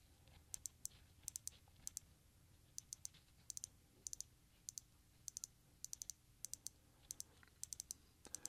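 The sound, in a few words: watch crown clicking as it is rotated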